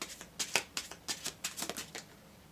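Close, crisp bursts of tarot cards being shuffled, a quick run of riffling slaps in uneven rhythm with no voices.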